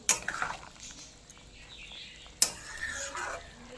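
Prawn curry being stirred in a pan with fried prawns added: a metal spoon clinks sharply against the pan twice, between soft scraping and faint sizzling, close and fairly quiet.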